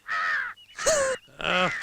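A crow gives three loud, close caws in quick succession, each harsh and drawn-out with brief pauses between, and no talking.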